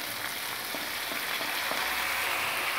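Green chillies, potatoes and chickpeas fry in a pan for leftover rice and poha fried rice, a constant close crackling sizzle with faint stirring scrapes and no talk.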